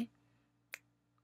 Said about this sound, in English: So everybody just snap your fingers with me.